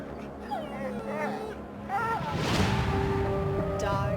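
German shepherds whimpering and yipping in a series of high, wavering cries, several close together, over a steady background with some talk underneath.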